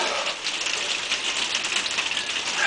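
Steady rain falls outside on a wet British summer day, a dense continuous hiss with fine pattering drops, even and fairly close throughout with no voices.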